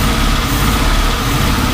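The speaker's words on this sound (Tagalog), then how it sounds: "ayos naman oh yung andar ng makina" A car engine idles steadily after a DIY engine installation, a loud, close, rough and even mechanical chug with no pauses and no talking.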